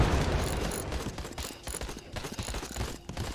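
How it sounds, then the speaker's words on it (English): Mortar fire and other gunfire in a combat video game, a dense, continuous barrage of blasts and crackling shots mixed with mechanical clatter. "That was a mortar."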